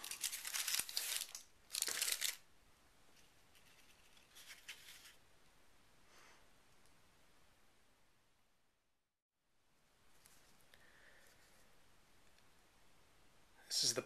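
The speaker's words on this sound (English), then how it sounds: "This is still the original cellophane from whenever this photo was picked up" Old cellophane photo sleeve crinkling as it is handled, loud bright bursts near the start and again at the very end, with quieter rustling between and a brief silent gap.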